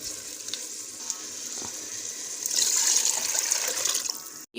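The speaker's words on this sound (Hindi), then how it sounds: "अब हम इसमें ऐड कर देंगे यखनी।" Mutton stock is poured into a pot of sizzling mutton and spices for Afghani Kabuli pulao, a close, steady frying hiss that swells into a louder splashing rush before cutting off abruptly.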